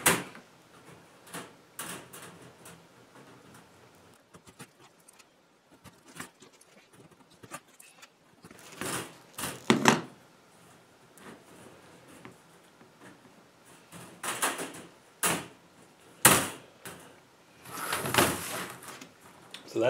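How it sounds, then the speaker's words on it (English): A homemade wooden trap door on a repeating squirrel trap is handled and worked, giving scattered wooden knocks, scrapes and clatters that grow louder and busier in the second half, with no talking. "now here is the trap door"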